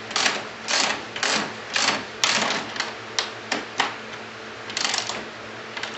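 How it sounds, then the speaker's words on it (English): A ratchet wrench tightens bolts on an RMK 600 snowmobile in quick, rhythmic clicking bursts, close by and fairly quiet. "Ratcheting, wrenching the ratchet makes it go quick."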